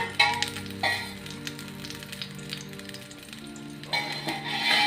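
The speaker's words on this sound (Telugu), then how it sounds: "ఈ రెసిపీకి కొద్దిగా నూనె కొంచెం కొంచెం వేసుకుంటూ వేపుకోవాలండి" Coriander leaves fry in a little oil in a pan for a tomato roti chutney, giving a soft steady sizzle with louder bursts at the start and near the end as the pan is stirred.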